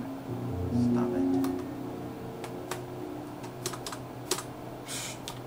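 Computer keyboard keys are pressed during a Minecraft session, scattered sharp clicks spread across the moment alongside a low hum and a brief tonal sound, with no speech.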